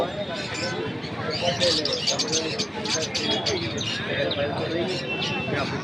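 Caged birds at a weekly Friday market in Vadodara: many small chirps and coos overlap continuously in a busy, crowded setting, with people talking throughout.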